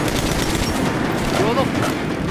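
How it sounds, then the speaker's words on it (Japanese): Heavy gunfire in the video game Metro Last Light, loud and dense, a continuous battle din of rapid shots under game noise throughout. "めっちゃ撃ってる。"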